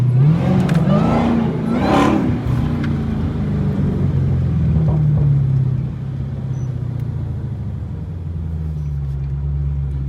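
A Dodge Hellcat blips its engine on a downtown street, two sharp rising revs in quick succession giving a loud downshift bark, then settling into a deep, steady rumbling idle and cruise from close inside the car.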